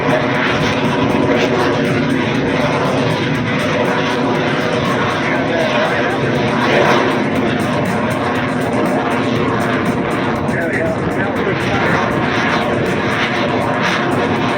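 A Yak 110 aerobatic propeller plane's engine roars loudly and steadily at an airshow, held at high power with a constant buzzing drone and faint crowd noise beneath.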